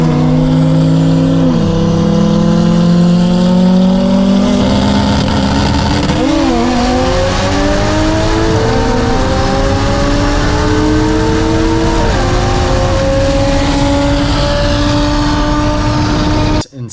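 A 2020 Shelby GT500 race car accelerates hard at full throttle, its loud, close engine note climbing steadily with audible gear shifts, continuous roar through the whole run and no talking.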